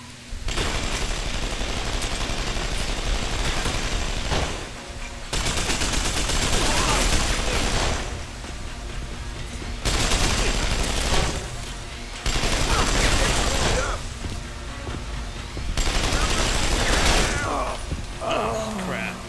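Automatic gunfire during a boss fight in the video game Deus Ex: Human Revolution comes in loud sustained bursts separated by short lulls, with mechanical clatter mixed in and some talk.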